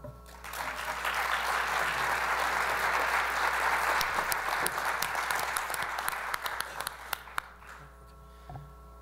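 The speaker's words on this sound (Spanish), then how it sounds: "recibámoslos con un aplauso" Audience applause welcoming the speakers at a book presentation honoring Carlos Fuentes, a broad sustained burst of clapping that builds, holds, then thins into scattered claps before fading.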